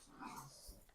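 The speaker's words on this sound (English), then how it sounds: "sorry about my dogs play fighting in the background" Dogs play fighting nearby, with a brief, low growl and rough breathing, faint and muffled in the background of an indoor room.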